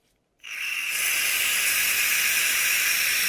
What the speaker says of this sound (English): a good bit of carb cleaner in it. Be liberal with this stuff